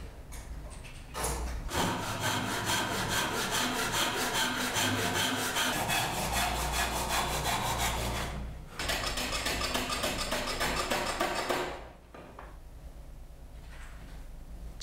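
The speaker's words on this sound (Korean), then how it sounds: "단면을 대패질합니다." A hand plane smooths the sawn end grain of a timber piece for traditional Korean joinery, giving dense, rapid rasping strokes in two long sustained runs with a brief pause between, close and fairly loud.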